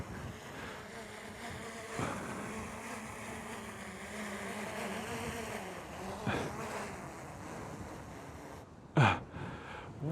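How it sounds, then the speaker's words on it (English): Strong wind roars and buffets steadily against the microphone while flying a drone over water, with a low rumbling drone underneath and a sharp gust-like burst near the end. "It's way too windy."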